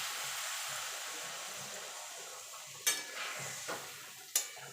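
Water poured into a hot pan of boiled potatoes and spices for dahi aloo dum, a steady close hissing sizzle with a few sharp metallic clinks of a spoon against the pan.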